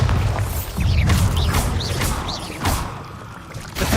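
A Bombarda explosion spell cast in the video game Hogwarts Legacy, giving loud booming blasts with whooshing bursts and rising magical swishes, several impacts across a few seconds of continuous action.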